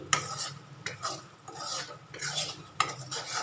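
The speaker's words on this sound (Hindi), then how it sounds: "ये मैंने शुगर सिरप मिला दी है। अब हम इसको लगातार चलाते रहेंगे।" A spoon stirs besan mixed with one-thread sugar syrup in a pan over a low flame for tawa puri, giving repeated scraping strokes with light sizzling underneath, close and moderately quiet, with no talking.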